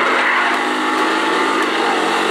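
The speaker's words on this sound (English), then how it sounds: "that car doesn't even sound too good" A damaged red car in GTA 5 speeds along with its engine revving hard, a loud, dense, buzzing roar that stays steady and close for the whole stretch, without speech.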